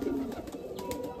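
Homing pigeons, Andhra, Madrasi and kalanka tournament birds kept at home, cooing in low, soft murmurs close by, steady throughout the short moment.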